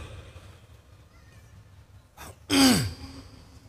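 Quiet background, then a short throat clearing followed by a louder, harsh single cough close by.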